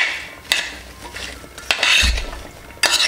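A spoon stirs vegetables with salt and turmeric in a cooking pot while making an Onam sadya dish, giving a few sharp metallic clinks and scrapes against the pot with softer rustling between them and no talking.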